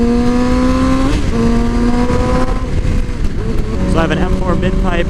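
A 2007 Yamaha R6 sport bike with an M4 mid-pipe and GYTR slip-on exhaust accelerating on a highway, its engine note climbing steadily through the gears, loud and continuous with some wind noise and talking heard over it.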